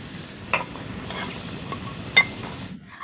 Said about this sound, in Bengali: রোলগুলোকে আমি বেশ মুচমুচে করে ভেজে নিয়েছি